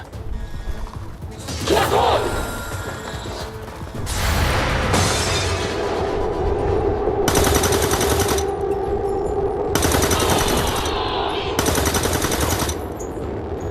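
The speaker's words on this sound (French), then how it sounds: "tous nos tirs ont touché, c'est assez incroyable" Automatic weapon fire from the turn-based strategy game XCOM 2 comes in several sustained bursts separated by short gaps, loud and close, with someone talking over the action.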